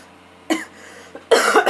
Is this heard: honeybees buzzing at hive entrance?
no